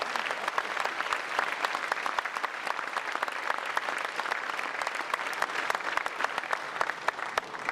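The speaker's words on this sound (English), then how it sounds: "Let's give these guys a round of applause" Honored football players at a college football banquet receive a sustained round of applause from the crowd, dense rapid clapping that stays steady and fairly loud throughout.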